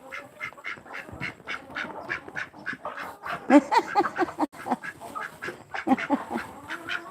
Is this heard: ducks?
yes